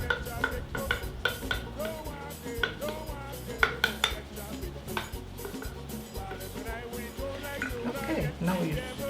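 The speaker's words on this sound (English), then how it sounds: "now you stir with the spoon" A spoon stirring in a bowl for benye batter with nutmeg and clove, quick repeated clinks and scrapes against the bowl at close range, with quiet voices talking underneath.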